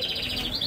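Lovebirds and other caged birds twitter at a busy Baghdad bird market, with a brief, steady burst of high chirping filling the moment.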